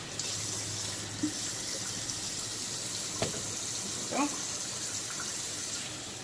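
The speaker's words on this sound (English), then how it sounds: "make sure my sink is on cold water, and I'm gonna rinse them" Cold tap water runs steadily into a kitchen sink while pasta for chicken Alfredo is rinsed, a continuous splashing stream with a few brief clunks; a voice speaks a single short word.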